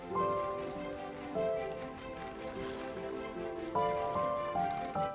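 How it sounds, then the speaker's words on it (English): Cocoa powder pours into a pot in the game Chocolate Factory Simulator, a continuous granular rain-like hiss under soft melodic background music. "So we're gonna pour 22 grams of cocoa powder."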